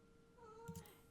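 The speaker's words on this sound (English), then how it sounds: "He's back here meowing" A cat meows once, faint and brief, during a Final Fantasy XIV dungeon session, its short cry rising over a quiet tonal game background.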